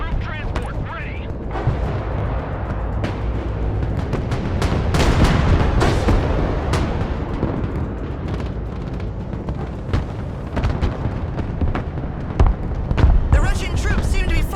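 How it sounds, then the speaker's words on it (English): Heavy artillery and explosion rumble from mobile artillery direct fire in the modern warfare game Broken Arrow, Russian troops invading Lithuania, a sustained dense barrage of booms and crackling impacts with radio-style voice chatter over it. "Mobile artillery standing by. Target marked, direct fire."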